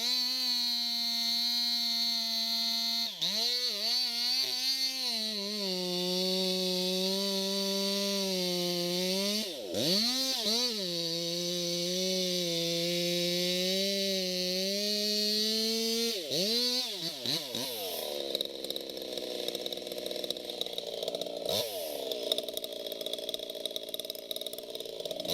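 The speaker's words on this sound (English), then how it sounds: "the loggers set to work, their chainsaws roaring to life" A chainsaw engine drones loudly and continuously while felling a large old cedar, its pitch rising and dipping as it bogs into wood and revs again, then turns rougher near the end.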